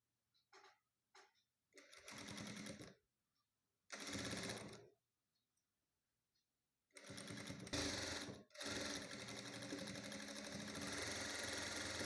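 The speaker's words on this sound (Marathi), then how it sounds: "त्याच्यावर लेस ठेवून शिवून घ्यायचं आहे पूर्ण" A sewing machine stitches lace onto a blouse strip in several bursts, a few short stutters, then longer stretches of rapid whirring and clattering separated by pauses, fairly close.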